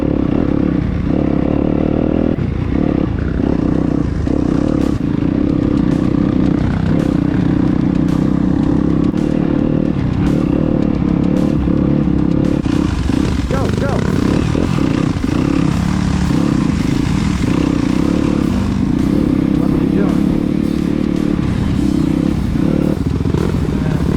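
A dirt bike engine runs loud and close in mud after a hot start, revving with uneven bursts and clattering mechanical noise throughout, a steady rough roar that rises and surges toward the end.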